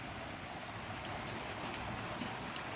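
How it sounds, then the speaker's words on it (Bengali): Rain falling steadily at night during a power cut, a soft even hiss with an occasional louder drop close by and no voices. "আর বৃষ্টি হচ্ছে আমাদের ওখানে"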